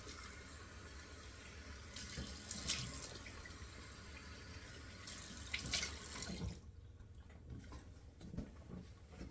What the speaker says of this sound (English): So I'm running the cold water in the sink.